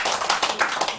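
Short burst of clapping from a small group at a spine-straightening exercise class, a quick flurry of hand claps lasting about a second, close and fairly loud.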